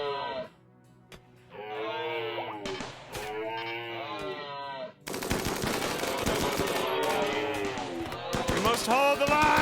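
Turrets firing machine guns in a video game battle, rapid rattling bursts that build into a dense, loud barrage in the second half, mixed with a bleating, warbling creature-like sound and game voices.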